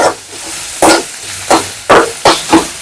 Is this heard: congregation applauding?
no